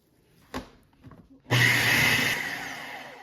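A kitchen blender whirs loudly as it purees homemade hummus, starting abruptly after a few soft knocks and running steadily with a bright, whining motor tone.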